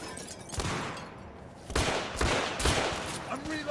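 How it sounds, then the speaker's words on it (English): Rapid gunfire bursts from the video game The Order 1886, loud and close, with a player talking over the shots. "who's firing me over there"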